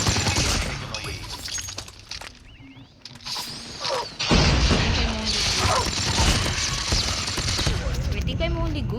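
Assault rifle and SMG gunfire in a shooter video game, rapid automatic bursts with mechanical clatter and crashes, loud and dense, while a voice talks over the action.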